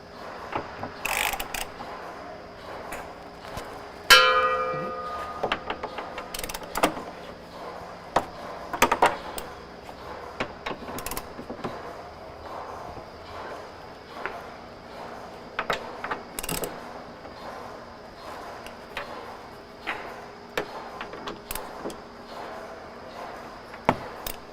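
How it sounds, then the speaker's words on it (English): A ratchet breaks loose the fuel tank mounting bolts on a 2020-2023 Winnebago Revel, heard as close bursts of clicking pawl ratcheting, sharp metallic clanks and scattered knocks separated by quiet pauses, with no talking. "Right now, I'm just going to break the bolts loose"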